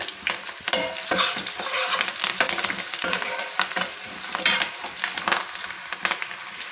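Spices, curry leaves and turmeric sizzle and crackle in hot oil with bursts of stirring and scraping, steady and close throughout, no voices.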